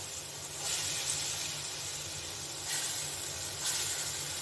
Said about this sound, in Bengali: এখন আমি বড়া করব অল্প তেলে বেশি তেলে করব না